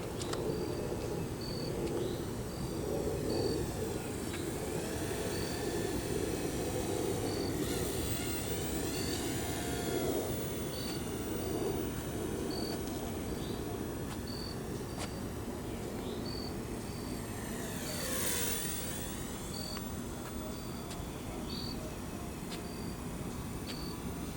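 A Blade Revolution 90 FP RC helicopter hovers and flies, its small motor and rotors producing a constant high whine and buzz that shifts in pitch as the throttle changes, with insects chirping in the background.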